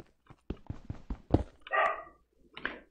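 Minecraft-style video game dog barking, a run of several quick close barks followed by a longer whining yelp and one last short bark.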